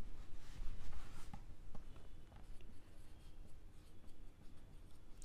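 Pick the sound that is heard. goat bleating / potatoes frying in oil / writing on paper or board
writing on paper or board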